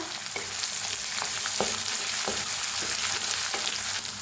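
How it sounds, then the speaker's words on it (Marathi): Curry leaves frying in hot oil with chilli and garlic in a kadhai, a loud continuous sizzle and crackle with small spatters and stirring taps throughout. "छान असं भाजून घेऊया तर ह्याच्यातच टाकूया कढीपत्ता"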